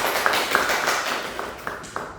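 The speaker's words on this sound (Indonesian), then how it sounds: "Tepuk tangan dulu kelompok 1." A classroom of students applauds a group in a dense wash of clapping, with a few sharper claps standing out and faint voices mixed into the steady noise.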